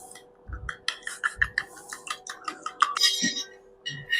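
Eggs are beaten in a bowl for an egg pakoda batter. A utensil makes a quick, uneven series of close, bright clinks against the bowl, with a few duller knocks between strokes.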